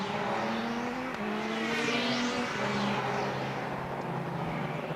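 Race car at the Silverstone Festival spinning during a sports prototype race, engine notes rising and falling against a dense roar of other cars, with a whooshing pass overhead and tyre noise, loud and continuous.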